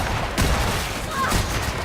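Gunfire in The Outer Worlds, a burst of two or three sharp shots close together amid a dense, noisy in-game background.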